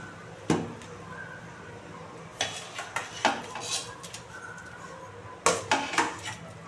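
A spoon clanks and scrapes against a metal pot of boiling kurma in several irregular stirring strokes, close by, over a low bubbling background.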